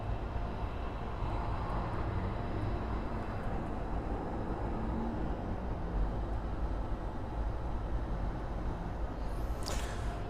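A low, steady jet roar rumbles continuously from an airliner on approach to runway 9 at Miami International Airport, heard at a distance as an even wash of engine noise with no talk.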